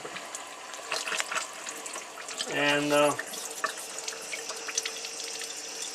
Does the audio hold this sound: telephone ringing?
no